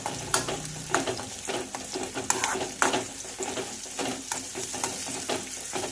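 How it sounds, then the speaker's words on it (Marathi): Finely chopped onion fries in a pan for Vidarbha-style turichya ghugrya, giving a steady close sizzle broken by frequent scraping stirs of a spoon, with no talk. "तर इथं कांदा घातलेला आहे आपण याला छानपैकी असं आहे आपल्याला तर असं फ्राय करून घेऊया"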